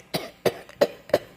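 A voice imitates a whooping cough (pertussis) fit, four sharp, evenly spaced coughs in quick succession, close and fairly loud.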